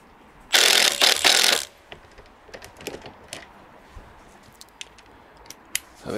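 A ratchet tightens a 17mm track rod end nut on an MG TF hub lever arm: one loud, dense burst of rapid clicking lasting about a second, then faint scattered clicks and taps nearby.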